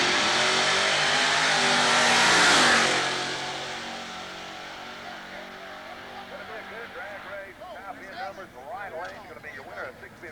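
Drag race cars at Southeastern Dragway, including a Chevrolet Monza Pro Mod, roar loudly down the strip, the engine blast peaking then fading into a distant whine as an announcer talks over it.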